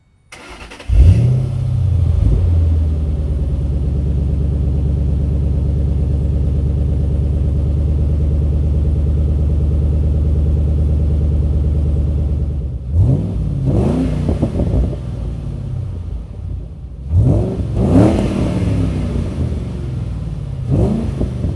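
A 3V Mustang GT with Bassani exhaust and cold air intake starts with a loud burst, settles into a deep steady idle rumble, then is revved sharply three times in separate bursts close up.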